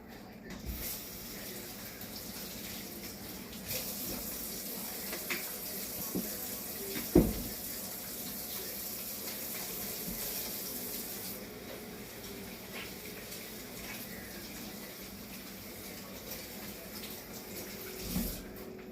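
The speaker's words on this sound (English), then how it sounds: "I'm going to wash my hands real quick." Kitchen tap water runs steadily during handwashing, a soft continuous rush close by with one brief clunk partway through and a faint knock near the end.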